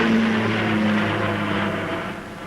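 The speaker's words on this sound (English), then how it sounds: "The Vickers Viscount can claim the honor of having been the first turbine-powered airliner to carry fare-paying passengers in 1950." A Vickers Viscount turboprop airliner passes at an air show, a loud steady engine roar with a sustained tonal hum that fades slightly toward the end, with no voices.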